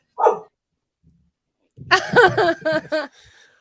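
A dog gives one short bark, then a burst of several quick, close barks and yips after a pause.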